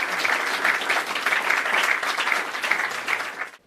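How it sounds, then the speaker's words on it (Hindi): Enthusiastic audience applause welcoming a panel at a school discussion on higher education, a steady, full roar of many hands clapping together that holds for a few seconds and then tapers off abruptly. "एक बार ज़ोरदार ताली बजाकर इस चीज़ का आप हमारे इस पैनल का स्वागत करें"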